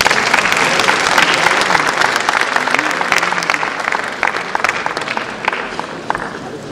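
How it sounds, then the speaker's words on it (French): Applause from a conference audience at a forestation event in Congo, loud and dense at first, then thinning into scattered claps, with faint voices underneath. "Sous applaudissements."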